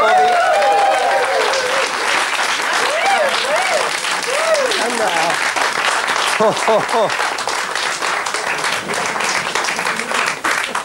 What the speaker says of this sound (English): ladies and gentlemen, a big round of applause, please